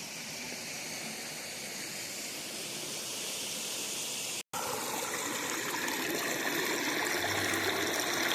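A river flowing steadily nearby, a broad continuous wash of water that carries on unchanged apart from a brief cut midway.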